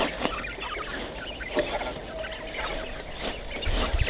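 Quails eating a feed of mixed grains and corn with oilcake, giving scattered soft clucks and chirps alongside pecking and rustling, close by, with a brief low thump near the end.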